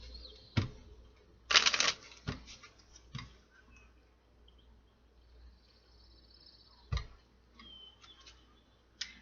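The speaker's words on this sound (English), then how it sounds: "One more shuffle." A Kipper card deck gets one more shuffle: a sharp, dense burst of riffling cards, followed by scattered taps and clicks of cards being handled up close.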